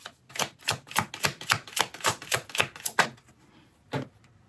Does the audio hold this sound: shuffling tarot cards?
yes